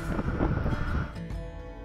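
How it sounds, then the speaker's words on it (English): Strong wind at a lake in Mammoth Lakes buffets the microphone in loud, rumbling gusts that ease off slightly toward the end. "It ended up being incredibly windy"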